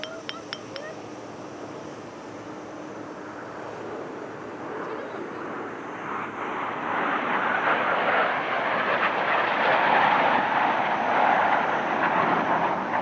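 An aerobatic team's formation of aircraft arrives at the Dubai Airshow, and its broad jet roar swells steadily from moderate to loud and fills the air, with a few glassy clinks at the start.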